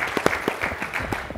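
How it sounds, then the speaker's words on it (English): An audience claps in appreciation for a behind-the-scenes team at a technology event, the applause steady and close with sharp individual claps standing out from the general patter, no talking over it. "Should we give them an applause?"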